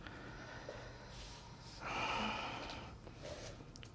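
Rhythmic breathing in and out through the nose during a yoga class, one long airy breath swelling clearly in the middle with softer breaths around it and no talking.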